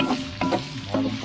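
Aromatics sautéed in a pan as the first step of a buro dish, a steady sizzle with a few louder stirring scrapes, close and without talk.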